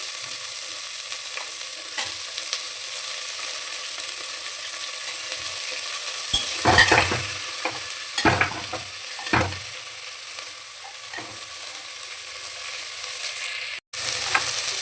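Onion and green chilli sauté in a pan for vegetable biryani, a quiet steady hiss with a cluster of scraping stirs in the middle, close by, ending after a brief cut.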